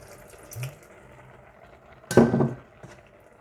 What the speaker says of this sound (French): je vais mouiller pour vraiment qu'il y ait de l'eau jusqu'en haut